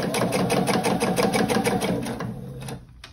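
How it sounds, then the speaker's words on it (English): A sewing machine runs steadily with a fast mechanical stitching rhythm, close and fairly loud, then slows and stops near the end. "Then I'm going to take that out from under the sewing machine."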